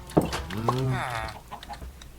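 Chickens cluck in a coop with a butcher standing by in a medieval kingdom video game, a short burst of harmonic clucks and squawks, close and moderately loud over a faint background.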